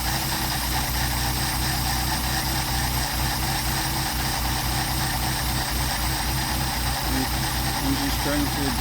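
Mercedes 190SL engine idling while its Solex carburetor is adjusted, a steady, even low thrum with a regular pulse, held close throughout as someone talks over it.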